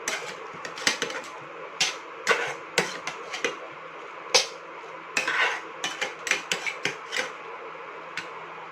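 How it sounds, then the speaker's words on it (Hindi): Pav bhaji vegetables being stirred in a pan, with a spatula scraping and clinking against the metal in irregular bursts over a low background, close and fairly loud, with no talking. "तो इसे हमें चलाते रहना है ताकि अच्छे से ये"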